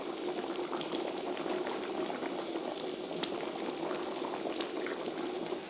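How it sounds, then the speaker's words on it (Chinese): Red beans boil in a covered pot for red bean porridge, a steady close bubbling and rumbling that carries evenly throughout with no voices. "盖上盖子，红豆先煮熟。"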